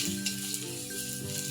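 Chopped ginger fries in hot oil in a pan, a steady close crackling sizzle lasting throughout the short stretch, with no talk.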